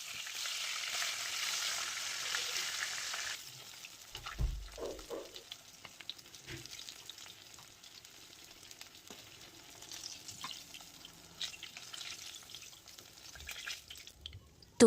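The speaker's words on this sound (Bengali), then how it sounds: "বাকি মাছগুলোও ভেজে নেব।" Fish frying in oil in a home kitchen, a soft steady sizzle that is loudest at the start, then settles into a quieter crackle with occasional clinks and drips.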